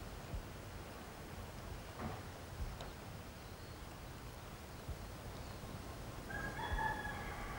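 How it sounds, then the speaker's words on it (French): A rooster crows on the island of Moorea in French Polynesia, a fairly distant cock-a-doodle-doo rising near the end over a soft outdoor background hiss, with no talking. "Ah si, il y a des poules, vous en verrez partout, de la côte jusqu'au sommet de la montagne."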